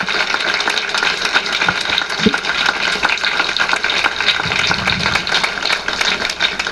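Audience applause at a tribute event for a professor: dense, sustained clapping fills the whole stretch at a steady, fairly loud level, with no pause.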